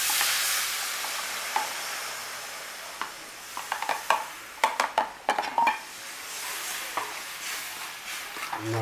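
Grape juice mixed with arrowroot stirred in a pan, with a soft simmering hiss, a quick burst of spoon scrapes and clinks against the metal in the middle, and quieter stirring around it.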